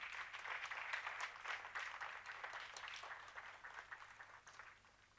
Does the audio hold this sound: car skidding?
no